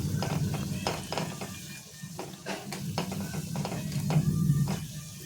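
Papad fries in hot oil in a pan, a continuous soft crackle under a low hum, with intermittent scraping and tapping of a utensil as the pieces are turned until reddish.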